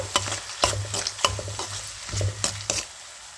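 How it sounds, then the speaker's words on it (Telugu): Sliced onions with half a spoon of salt and a pinch of turmeric sizzle in a pan for chicken liver fry, with several sharp spoon-scrapes and stirring strokes punctuating the steady frying hiss. "ఇందులోకి అర స్పూన్ సాల్ట్ ఇలా వేసుకొని ఇలా ఒకసారి కలుపుకోవాలి ఉల్లిపాయలు మగ్గుతాయి అనమాట త్వరగా"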